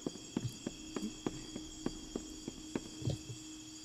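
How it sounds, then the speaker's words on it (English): Footsteps in the video game Indigo Park tap in an even, moderately paced walking rhythm, about a dozen soft clicks over a low steady hum. "I thought I heard another set of footsteps."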